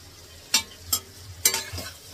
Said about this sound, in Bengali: পোলাওতে দেবো বলে একটু পনির ভেজে নিচ্ছি